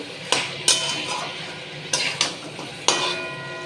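Meat sautéed in a pan over a high flame: a loud continuous sizzle broken by a few sharp spatula scrapes and knocks against the metal, heard close with no talking.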